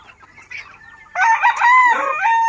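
A rooster among large breeding chickens crows loudly and close by in one long, wavering cock-a-doodle-doo, preceded by softer clucking from the flock.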